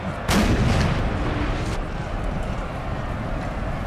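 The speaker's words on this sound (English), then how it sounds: "The cannons are shooting at different targets." Cannon artillery fire in the Napoleon: Total War video game, a loud booming blast near the start followed by a sustained rumbling battlefield din with scattered distant shots.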